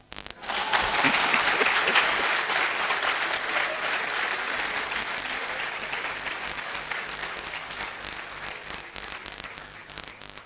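Loud, dense audience applause fills the hall, starting abruptly and holding steady for around ten seconds before thinning slightly toward the end.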